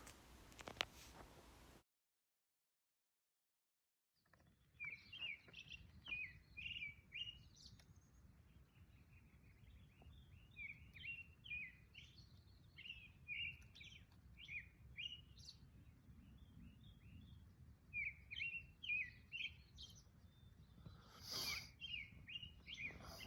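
Birds chirp at about 5:15 on a dawn morning along the Continental Divide Trail between Leadville and Breckenridge, bright scattered calls from several birds over a quiet background after a short silence.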